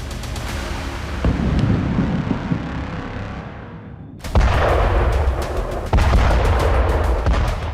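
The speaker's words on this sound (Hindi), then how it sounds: "ये खान यूनिस इलाके में आईडीएफ की बेहिसाब बमबारी का एक और वीडियो सबूत है।" Israeli air force bombardment in Khan Younis, southern Gaza: heavy booming blasts with rumbling aftermath and a sharp second explosion, loud and distant-sounding, with crackling debris and no talk.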